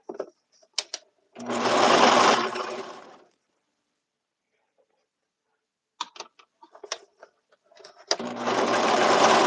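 A serger sewing machine stitches suit seams in two loud, continuous whirring runs, each a couple of seconds long, separated by silence and a cluster of light mechanical taps and clicks.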